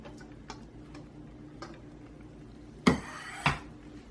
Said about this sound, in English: Okay, we are to add our drained pasta.